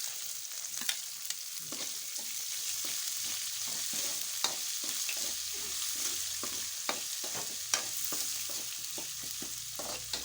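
Onion and curry leaves fry in hot oil for chapati upma, a steady close sizzle broken by frequent sharp crackles and pops, with the faint scrape of stirring.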